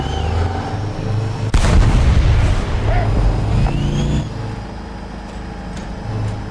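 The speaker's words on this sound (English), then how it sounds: "So this cannon can really fire on the move as well." A heavy tank cannon blast in a video game booms out, followed by a rumbling tail and engine drone, with a smaller report trailing off afterward.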